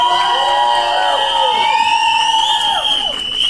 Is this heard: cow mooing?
no